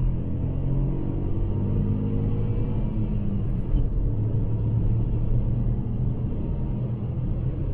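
A Ford Puma ST Line engine held at the rev limiter in first gear, a loud, steady, close droning rumble that barely varies.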